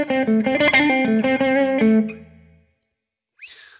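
Electric guitar plays a slow 12/8 blues lick in C in Hyde Park style, a run of sustained, bent notes with distorted tone for about two seconds that then rings out, followed by a faint brief noise.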